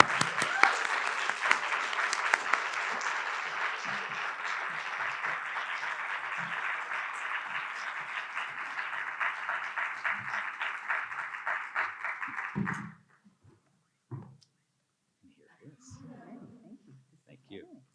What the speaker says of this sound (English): Please, now another round of applause.